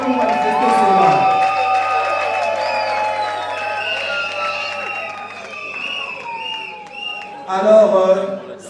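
Guests at a customary wedding in Kinshasa cheer and clap for the bride, shouts and whoops with scattered applause over music and voices, surging louder near the end.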